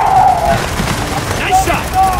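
Rapid bursts of gunfire from a Gears of War 4 battle crackle continuously, with shouted character voices over the fighting.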